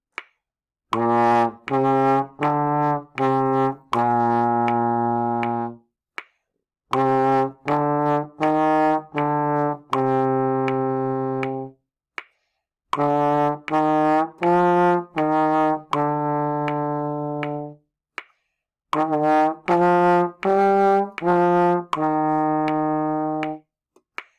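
A trombone plays four phrases of short, evenly tongued eighth notes, each phrase ending on a longer held note, with brief pauses between, clear and close.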